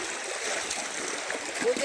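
River water flowing steadily along a trail at MMDA Nature Park in Mallorca City, a soft continuous rushing close by with light splashy texture, no voices.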